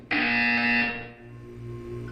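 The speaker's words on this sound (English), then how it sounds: "You will hear a buzzer." A harsh, loud electronic buzzer blares for under a second in the video game Portal 2, then cuts off, leaving a faint hum behind.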